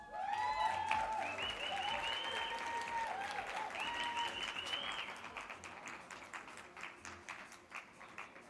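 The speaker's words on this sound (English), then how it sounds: "Please give her a warm, resounding round of applause." Aviation summit audience applauding in a large hall, a steady round of clapping that runs under a swelling musical tone and then thins out toward the end.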